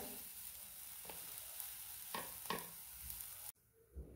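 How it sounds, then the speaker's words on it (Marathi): Peas fry in a pan with a faint, steady sizzle and a few sharp scraping stirs, then the sound drops away abruptly, with no talk, while making matar paneer. "आता आपले मटर थोडे फ्राय झालेले आहेत."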